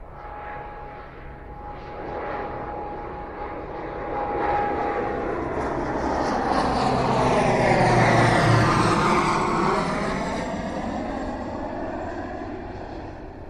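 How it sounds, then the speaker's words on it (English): The piston propeller engines of the 1945 B-29 bomber Enola Gay drone loudly as the plane passes, swelling to a peak and then fading, with a sweeping pitch shift and no voices. "President Truman ordered a launch of the B-29 bomber named the Enola Gay"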